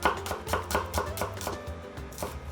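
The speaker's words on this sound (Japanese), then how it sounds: "玉ねぎはね、繊維に沿って薄くスライスしてください" A knife thinly slices an onion along the grain on a cutting board, giving a steady run of close, crisp chops at a brisk, even pace.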